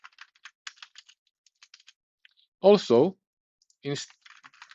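Fingers tap a computer keyboard in quick, light clicks close by, pausing briefly while a person speaks a few words before the typing resumes.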